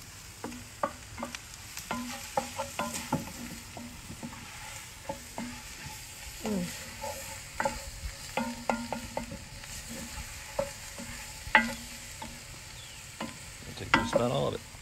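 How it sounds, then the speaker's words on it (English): Flour being stirred into red wine braised short ribs in a pot on a Big Green Egg: repeated scraping clinks of a spoon against the pot over a quiet sizzle, in an irregular rhythm. "Okay, I'm gonna stir in a little bit of flour."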